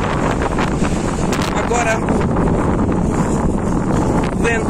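Strong wind blowing at the sea beside fishermen, a steady loud rush buffeting the microphone throughout, with a voice speaking over it.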